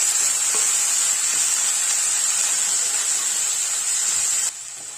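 Carrot, beans and peas are stirred into semiya rava kichadi in a pan, giving a steady loud sizzling hiss with faint scraping underneath, cutting down abruptly just before the end.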